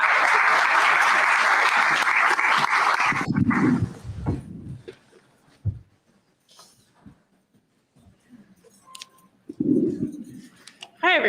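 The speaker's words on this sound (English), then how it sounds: "Let's give them a clap." An audience applauds after a marching band and cheer performance, a loud dense burst of clapping for about four seconds that fades into sparse noises, a few barks and scattered speech.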